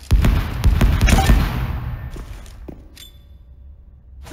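A splinter grenade from the video game Spectre Divide is thrown, setting off a loud, dense burst of sharp crackling impacts and thumps that fades into a thinning debris rattle and a few faint ticks.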